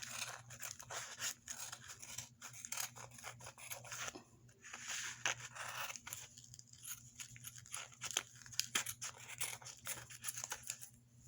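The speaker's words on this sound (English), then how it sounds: "I'm going to take my scissors and I'm just going to cut all these strings right now" Close, quiet snipping and rustling as scissors cut through yarn strings on a loom, in irregular bursts over a low steady hum.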